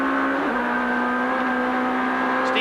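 In-car sound from a 1991 Toyota touring car racing at about 100 mph up towards Coppice, a loud, steady high-pitched engine whine with a brief dip in pitch as it shifts, then holding strong.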